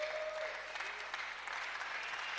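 A church congregation at an overnight youth service claps for the Lord in a steady, dense wash of applause, fairly distant and even throughout with a faint voice beneath.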